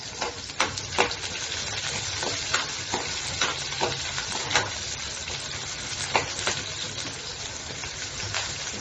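Chopped onions, green chillies and garlic cloves sizzle steadily in hot oil for a Maharashtrian dal tadka, with repeated spoon scrapes and stirring clatters against the pan close by, and no voices over it.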